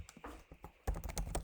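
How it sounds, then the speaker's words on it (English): Keys clatter on a computer keyboard while code is typed from scratch, a run of quick, close clicks that grows denser and louder partway through. "So we'll type it from scratch."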